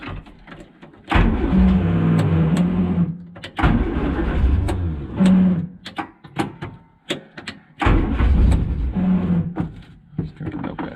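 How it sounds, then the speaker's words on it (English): Morris Minor starter motor cranking the engine in repeated bursts, each a few seconds long with short pauses between, loud and close, the strained grinding whirr of a reluctant start. "Starter motor then is not too happy, and nor is my ignition switch."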